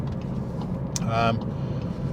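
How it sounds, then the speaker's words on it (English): A plug-in hybrid car's engine cuts back in and runs steadily, a low droning hum from inside the cabin with a brief brighter burst of mechanical noise partway through. "the car's jumped back into life, so we've got engine working again"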